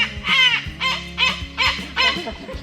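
A wild talking parrot squawking loudly nearby, five harsh, raspy calls in an irregular rhythm, each call loud and close with brief gaps between them.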